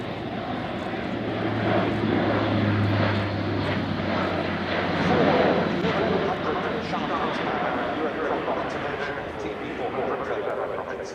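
A German Air Force Airbus A400M Atlas military transport performs a flying display at an airshow, its turboprop engines giving a steady, loud droning roar that swells slightly midway and holds throughout.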